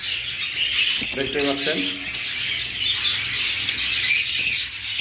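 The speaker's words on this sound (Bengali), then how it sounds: "নিচে কিছু লাভ বার্ড আছে" Lovebirds in a cage at a bird market chirp and squawk in busy, overlapping bursts, close by, while someone talks over them.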